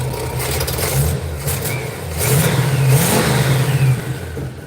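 A car engine with a strong motor revs up and holds a high, rough note, then eases back down. It sounds close and loud, with a low rumble throughout and no talking.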